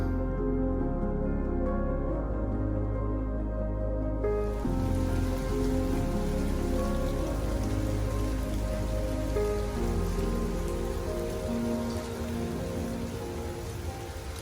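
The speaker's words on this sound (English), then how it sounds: "it's been raining and lightning and thundering all day" Steady rain pours down through a stormy day of lightning and thunder, a dense continuous patter that grows fuller after a few seconds, with no distinct thunderclap standing out.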